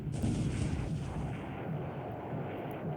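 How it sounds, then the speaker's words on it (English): Naval shelling in the wargame Pacific: AE, a dense continuous rumble of artillery fire with no gaps, loud and steady throughout. "looks like only some shelling"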